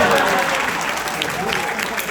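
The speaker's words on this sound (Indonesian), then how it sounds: "Tepuk tangan dong." Thick, continuous applause from a crowd at a political speech, loud and close, a dense even wash of clapping hands with no pauses across the whole stretch.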